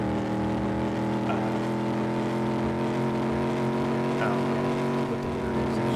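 Vehicle engines in the video game Reckless Driver drone steadily with a buzzing, thin whine that holds a constant pitch throughout, close and continuous.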